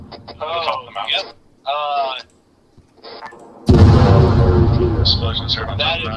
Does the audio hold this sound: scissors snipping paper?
no